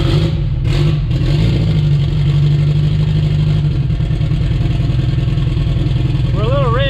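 A car engine idles steadily right after its first start, a loud continuous low rumble held through the whole stretch with no revving, while a voice talks over it.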